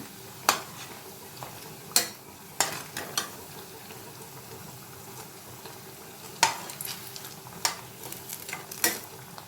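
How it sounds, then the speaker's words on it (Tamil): Vadas deep-frying in hot oil while being turned again and again, a soft bubbling sizzle broken by repeated sharp clinks and scrapes of a utensil against the pan. "இப்போ எல்லா வடையும் நல்லா வேகிற அளவுக்கு திருப்பி திருப்பி விட்டுக்கோங்க."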